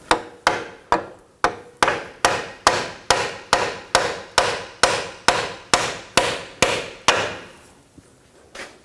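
A hammer taps a rear lower outer ball joint on a 2000-2006 BMW X5, giving about sixteen sharp, evenly spaced metallic strikes up close, each ringing out briefly, before the blows stop and a quieter rustle follows.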